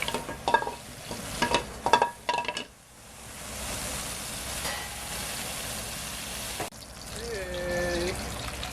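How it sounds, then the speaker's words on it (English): Vegetables sautéed and stirred in a pan for twice cooked pork, with scraping stirs and clatter early on, then a steady moderate sizzle; speech is likely present. "And sauteed veggie part."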